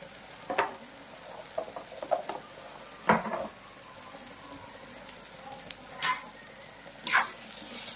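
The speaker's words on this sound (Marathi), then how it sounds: "आता हे परत साधारण 5 मिनिटं मी असं हलवून घेणार आहे." Spices, asafoetida, turmeric and chillies frying in oil while being stirred, a faint steady sizzle broken by several sharp scraping strokes of the spoon in the pan.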